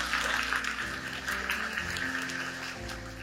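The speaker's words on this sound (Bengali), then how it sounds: "তোমাদের জন্য অনেক বড় একটা হাততালি" Applause at a school event for two quiz winners: a steady, dense wash of clapping that fills the whole moment at even loudness, with faint tonal sound underneath.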